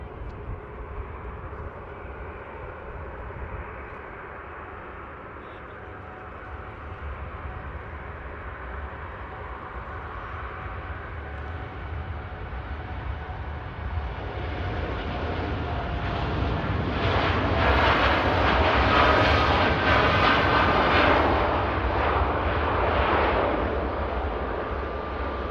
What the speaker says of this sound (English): TUI Dreamliner on the roll to Cancun.